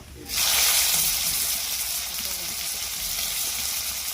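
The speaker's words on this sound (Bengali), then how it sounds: "এর মধ্যে আমি দুটো ফোড়ন দিয়ে দিলাম দুটো সাদা জিরে এবারে পেঁয়াজ কুচি দিয়ে দেব" Chopped onion drops into hot oil already holding cumin seeds and bursts into a loud, close sizzle that settles into a steady fry.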